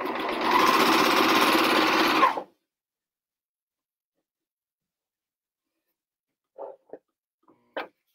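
A sewing machine stitching along stretched elastic runs in one fast, steady, close burst of about two seconds, then stops, followed by silence and a few faint small clicks.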